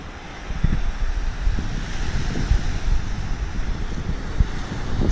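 Waves and wind at Chic's Beach, with white sand and beach houses nearby: continuous rushing surf and gusty wind buffeting the microphone, moderately loud, with no talking.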